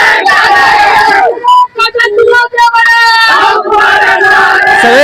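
A crowd at a mayoral election gathering cheering and shouting loudly at close range, a roaring mass of voices with rising whoops and yells.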